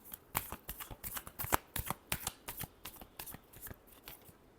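Tarot cards are shuffled in a quick series of soft riffling flicks and slaps, close and fairly quiet, with no talking.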